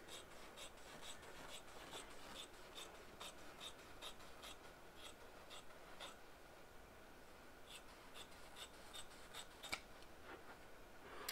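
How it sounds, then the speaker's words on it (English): HQ batting shears snip through quilt batting in a quick, steady run of soft, crisp cuts, repeating rhythmically at close range and fairly quiet, with no speech. "These are the HQ batting shears. And it cuts so easy."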